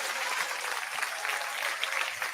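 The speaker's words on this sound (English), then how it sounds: "Let's give Romulus a round of applause, y'all." An audience gives a round of applause at a live podcast-style event, steady dense clapping filling the whole moment without any talk over it.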